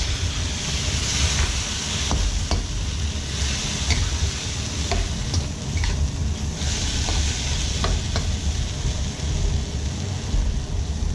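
Pad thai sauce being stirred into sizzling noodles in a hot pan: a loud, continuous sizzle with repeated scraping and tapping strokes from the stirring utensil.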